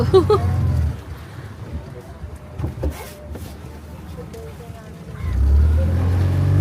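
Low engine rumble from a motorboat on a boat trip at Sambranikodi, Kollam, strong at first, easing off through the middle, then swelling loud again toward the end.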